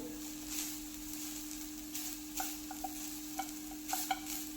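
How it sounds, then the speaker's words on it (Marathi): A spoon scrapes and stirs grated coconut roasting in ghee in a wide pan, with soft sizzling underneath, quiet and close, with irregular clinks of the utensil. "इथे दोन ते तीन मिनटं आपल्याला तुपावरती नारळ भाजून घ्यायचा आहे"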